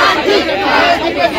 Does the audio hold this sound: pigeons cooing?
no